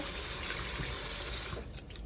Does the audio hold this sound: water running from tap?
yes